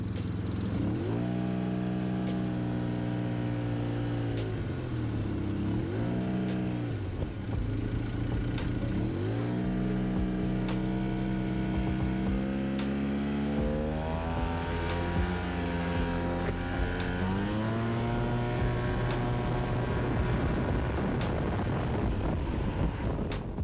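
Yamaha TMAX scooter engine drones loudly and continuously while riding, its pitch rising and falling with throttle, an odd noise under heavy wind buffeting on the microphone and occasional sharp ticks.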